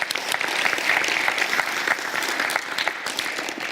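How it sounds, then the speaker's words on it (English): Audience applause fills a university campus meeting, a dense, steady wash of many hands clapping at close range, holding at an even level throughout without speech. "Can we clap?"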